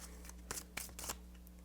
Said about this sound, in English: I'm gonna shuffle this deck right.